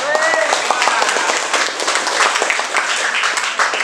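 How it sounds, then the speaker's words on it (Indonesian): Classroom students applauding after a group presentation on Hooke's law, brisk scattered clapping from a small group with voices mixed in throughout. "berikan tepuk tangan"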